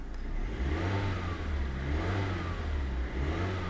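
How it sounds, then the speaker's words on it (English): A 2001 Nissan Silvia Spec-R engine runs loudly and steadily up close, a rough mid-pitched drone with slight swells in revving, the extra loudness coming from a chassis vibration. "Everything works, just the engine is a little bit extra loud."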